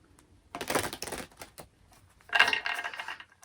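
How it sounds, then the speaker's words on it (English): Close, soft rapid riffling of tarot cards in two bursts, papery flutters with a quiet gap between them. "I'm going to give it one last shuffle"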